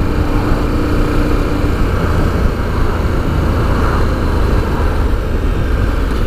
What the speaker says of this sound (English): The engine's got a nice, low, purposeful note about it.